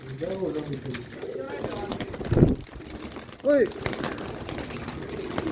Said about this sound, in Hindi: ये बैठने लगा कबूतर